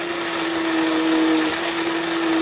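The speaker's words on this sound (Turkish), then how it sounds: "İki tane narımız vardı. Blenderımızdan geçirdik." A blender whirs steadily as it blends two pomegranates, a loud continuous motor hum with a constant pitch and no voices.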